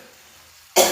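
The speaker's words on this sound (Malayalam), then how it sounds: "മുളകിൻ്റെതായിട്ട് ചുമ അങ്ങനെ വരുന്നു." A single short, loud cough bursts out at the very end after near silence, brought on by chilli fumes while cooking a tomato and okra curry.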